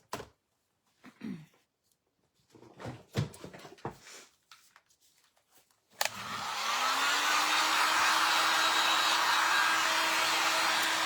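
A hair dryer switches on abruptly partway through and runs steadily with a loud whooshing drone while drying a craft project, after a few seconds of quiet handling clatter and small knocks.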